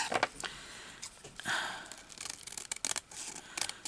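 Scissors snip around a paper journal pocket with a gauze backing, a series of short, close crisp cuts and rustles with brief pauses between them.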